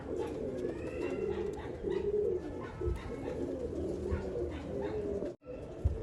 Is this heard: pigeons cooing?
yes